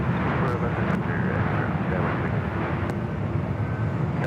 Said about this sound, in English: Our next arrival here on the north side at Delta Airlines flight 1475 coming in from Vegas